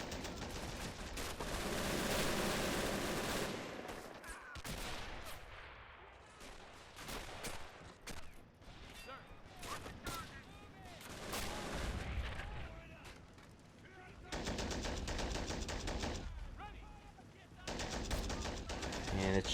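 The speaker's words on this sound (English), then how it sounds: "we got those nice 30 cals on the side opening fire as well." .30 cal machine guns fire in rapid bursts among artillery booms and scattered gunfire in Men of War: Assault Squad 2, a World War II strategy game. The firing is loud and dense, with brief lulls.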